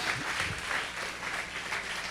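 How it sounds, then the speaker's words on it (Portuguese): A church congregation claps together for the Lord, a dense steady wash of applause filling the space at moderate loudness, with no voices standing out. "Vamos aplaudir o Senhor bem forte."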